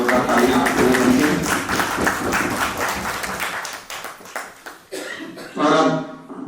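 Audience applause at an annual poetry festival event in India, a sustained burst of clapping that gradually thins out and fades, with a brief scatter of claps near the end.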